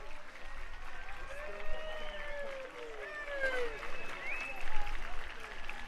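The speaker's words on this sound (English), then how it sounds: "Big round of applause for all these guys." Audience applause at a South Lafourche High School band spring concert, a sustained wash of clapping and crowd noise with a few voices and whistles rising over it, moderately distant.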